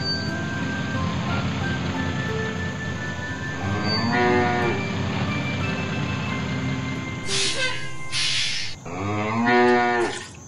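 A cartoon cow moos on a farm among children's-show background music, a couple of drawn-out lowing calls near the end standing out over the steady musical bed.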